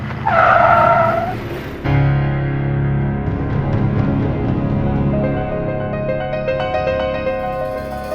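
A car's tires screech loudly in a short skid, then cut off abruptly, followed by a lower mechanical hum with faint tonal sounds.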